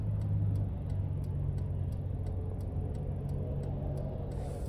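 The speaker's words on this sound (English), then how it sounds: "We're gonna try to give it another little acceleration stint here." A Toyota Tacoma TRD Pro truck accelerates on the freeway, a steady low engine and road rumble heard from inside the cab, with a faint regular ticking running throughout.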